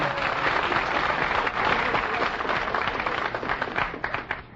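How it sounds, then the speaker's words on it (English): Marines seated in the audience of a radio comedy quiz show applaud, a dense burst of clapping that thins and tapers over a few seconds, moderately near. "Did you plant those Marines out front who applaud for you tonight there in the third row?"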